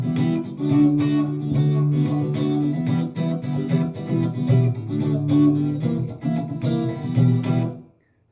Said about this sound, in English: Now the chorus, if you put the strumming with it, should sound something like this.